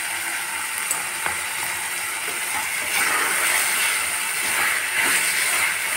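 Tomato pieces frying in a pan for a mutton curry with menthaku and anapaginjala, a steady close sizzle with faint occasional clicks of stirring.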